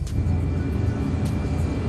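Airliner engines rumble in a flight simulator at Lille as the aircraft rolls toward takeoff, a steady, loud low-frequency roar filling the whole moment with no talking.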